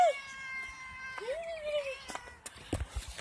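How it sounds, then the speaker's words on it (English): A pet cat meows twice close by, a short high call then a longer drawn-out one, followed by small scuffling sounds and light handling noise. "This is my kitty cat."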